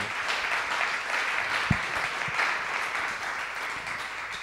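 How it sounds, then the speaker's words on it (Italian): Talk show audience applauds a guest on a live broadcast, an even wash of moderate clapping that holds steady throughout, with a single soft thump partway through. "Applauso."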